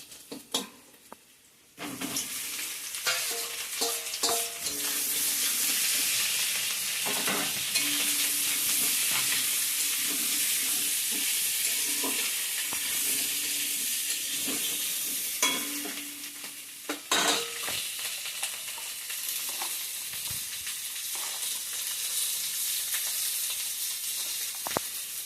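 Potatoes go into hot oil with fried onion, garlic, chili and panch phoron, setting off a loud, sustained sizzle broken by repeated scraping stirs of a spatula.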